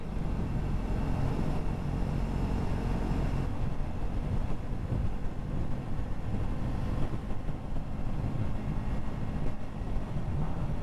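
Triumph Scrambler 400 motorcycle cruising steadily in fifth gear on a warm day, a continuous loud low engine drone blended with heavy wind rush, no talking.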